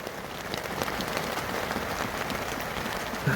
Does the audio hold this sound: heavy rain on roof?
yes